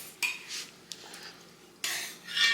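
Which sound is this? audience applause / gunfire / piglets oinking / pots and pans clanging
pots and pans clanging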